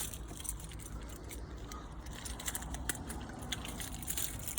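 Keys for a 2021 Elddis Affinity 520 caravan jangle close by in soft, irregular metallic clinks and rattles, fairly faint over a low background hiss, with no talking.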